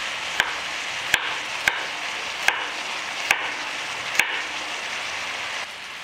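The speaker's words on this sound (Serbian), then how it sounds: "Njih ću iseckati na manje kockice." Carrots are chopped into small cubes on a board, with six or so sharp, evenly spaced knife strikes over a continuous background sizzle of frying.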